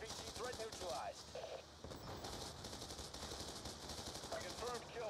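Sustained automatic gunfire fills a Call of Duty: Black Ops 2 battle, rapid bursts rattling continuously while radio-style voices talk over the shooting.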